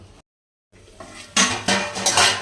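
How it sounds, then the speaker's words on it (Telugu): Brinjal curry (stuffed eggplant in onion spice) simmers in a pan while being gently stirred, producing a few close metallic scrapes and clinks of a spoon on the pan after a brief pause, with no voices. "ఇలా ఉడికేటప్పుడు వంకాయ నలగకుండా చిన్నగా కలిపిప్పుకోవాలి"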